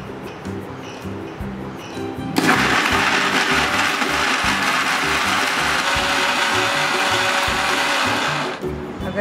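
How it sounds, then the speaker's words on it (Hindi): A mixer grinder whirs loudly as it grinds a spice paste with fennel and mustard, starting abruptly after a moment of background voices and running steadily for about six seconds before cutting off. "अभी ग्राइंड कर लेंगे।"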